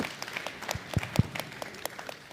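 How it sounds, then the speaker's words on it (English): Scattered clapping from a small crowd at a military veterans suppliers information day, a thin, uneven patter of hands with a few sharper close claps, fairly quiet and loose rather than a full ovation. "let's just give them a round of applause"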